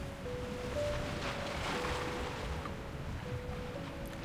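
Towering ocean waves surge in a steady, broad wash of surf and wind in a video game, continuous and fairly loud throughout, with a faint sustained tone running underneath.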